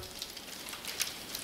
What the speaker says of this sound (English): Hopefully you'll hear me over the sound of this dripping rain.